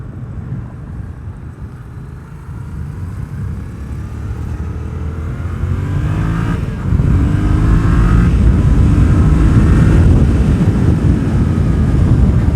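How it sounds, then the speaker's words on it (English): A Yamaha FZ-07 motorcycle being ridden, its low engine drone steady and close under heavy wind rush, building slightly in pitch and loudness partway through as the bike accelerates. "sort of like a Ninja 650 FZ-07 class of motorcycle is really, really great for beginners"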